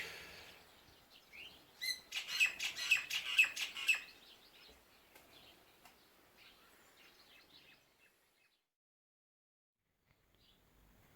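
Several small birds chirp and tweet in quick bright bursts, fairly faint and clustered early, then thin out into near silence.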